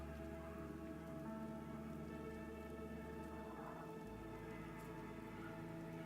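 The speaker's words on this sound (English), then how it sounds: "Rain sounds." Rain ambience in a video game, a dense, continuous patter of rainfall with a steady hiss, heard quietly under layered tonal game background sound, with no talk.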